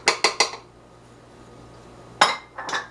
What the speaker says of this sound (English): And again, another stir.